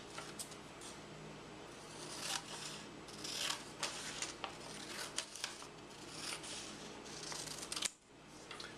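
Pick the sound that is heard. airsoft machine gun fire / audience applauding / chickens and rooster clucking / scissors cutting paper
scissors cutting paper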